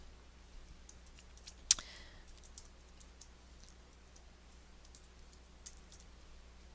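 Sparse clicks from someone typing on a computer keyboard, with a few isolated keystrokes and one sharper tap over a low electrical hum, recorded quietly and close.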